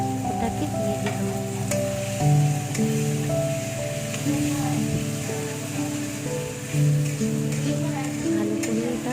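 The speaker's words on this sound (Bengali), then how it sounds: "এবারে আদা আর রসুন থেতো করে রেখেছিলাম, ওটাকে দিয়ে দিলাম।" Crushed ginger and garlic frying in a pan for egg chowmein, a close, dense sizzle under a steady background hum and faint clatter, with tonal noise drifting through; no speech.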